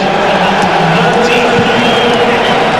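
A large stadium crowd of about 40,000 in Doha at the Spain versus Costa Rica football match makes a steady, dense roar beneath a commentator's voice.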